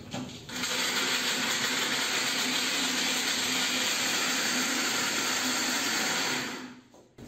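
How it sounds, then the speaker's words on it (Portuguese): A kitchen blender runs steadily for about six seconds, a loud whirring roar as it mixes cake batter, then winds down and stops. "se você tiver um liquidificador igual o meu"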